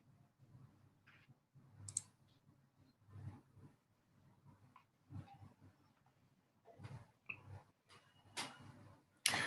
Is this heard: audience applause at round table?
no